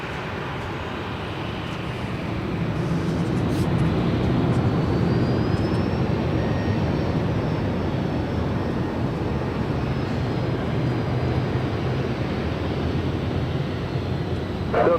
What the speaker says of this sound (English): Our next arrival is Alaska Airlines Flight 165 coming in from Portland. It's an A320.